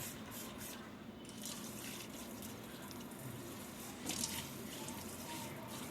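Water from a tap washes a wash basin, a faint steady splash and trickle with small drips and a brief louder splash near the end, no talk.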